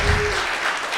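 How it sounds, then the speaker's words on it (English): Comedy club audience clapping briefly in response to a stand-up comic, a short burst of mixed applause filling the room, fairly loud and close. "Clap if you got the vaccine."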